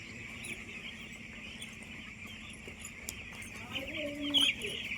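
Chickens on a poultry farm at night, with soft scattered clucks over a steady hum, and a louder cluck burst near the end.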